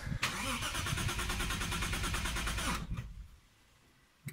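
A Lexus IS200 running a Speeduino ECU cranks over with a rapid rhythmic starter chug for under three seconds, close and loud, then falls quiet without catching, followed by a brief noise at the end.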